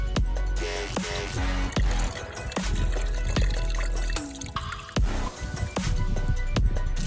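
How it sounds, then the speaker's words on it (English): Engine Ice coolant drains from a 2006-2016 Yamaha YZF-R6 motorcycle, pouring and splashing steadily, a continuous wet gurgle with occasional sharp clanks and knocks close by. "We're just gonna pour it out."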